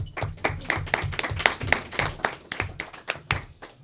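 A conference audience claps in an uneven, steady patter of applause lasting several seconds, fairly close and clear with no talk over it.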